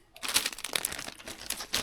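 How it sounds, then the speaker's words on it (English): Close, continuous crinkling of a plastic bag being handled, with crisp rustles rising and falling in quick bursts. "Plastic bag."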